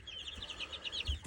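Purebred fighting-breed chicks give a quick run of faint, high, repeated peeps in a quiet setting, ending with a couple of low thumps.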